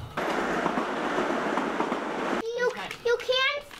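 An electric subway train rumbles steadily at a New York station, loud and close, then cuts off abruptly as someone speaks.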